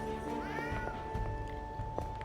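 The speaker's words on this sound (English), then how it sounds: "that is my meowing cat" A house cat gives one soft meow up close against a steady electronic hum and faint room noise, followed by a few light thumps.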